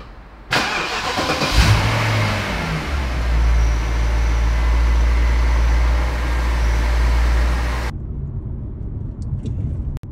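BMW 545i E60 engine starting with a sharp crank and catch, then a loud steady engine rumble for several seconds before it cuts to a quieter interior, no voices.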